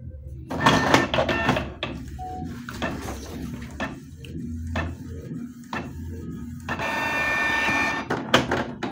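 A Canon printer printing a PDF sent from a phone over a USB cable: clunky mechanical clatter and paper-feed knocks, a stretch of rolling motor whir, then a whining tonal run and a few final thumps, close and moderately loud.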